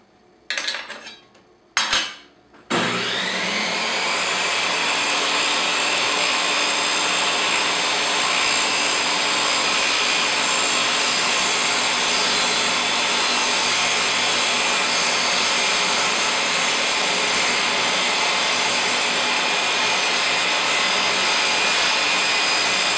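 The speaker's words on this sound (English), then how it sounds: "So I'm just going to slowly raise the blade till it gets up to that point there." Table saw blade spinning and slowly raised through a dowel making jig, a few short start-up bursts followed by a long, loud, steady whine that holds unchanged, near and alone without talk.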